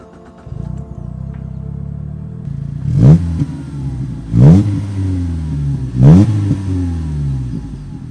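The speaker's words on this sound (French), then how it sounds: "je vais vous faire écouter le bruit du 4 cylindres" A 2017 Morgan Plus 4's Ford four-cylinder engine idles steadily, then revs sharply three times in quick succession, each rev rising and falling before settling back to a rumbling idle.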